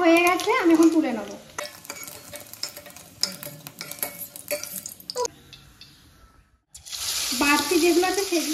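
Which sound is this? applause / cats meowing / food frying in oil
food frying in oil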